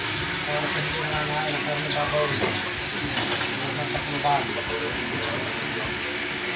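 Pinaksiw simmering and bubbling in a pot at a fiesta, a steady dense bubbling hiss with occasional stirring clinks, fairly close, with voices talking faintly in the background.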